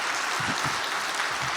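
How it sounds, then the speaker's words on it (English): A crowd at a Martin Luther King Jr. Day celebration claps steadily for its whole length, a dense, even wash of applause with no voices rising above it. "give her a round of applause"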